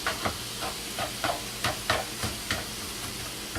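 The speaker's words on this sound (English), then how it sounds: "let's stir the pan" Chili made with cans of ingredients and weenies is stirred in a frying pan, a rhythmic series of scraping, clattering strokes over a constant low sizzle, close and moderately loud, with no voices.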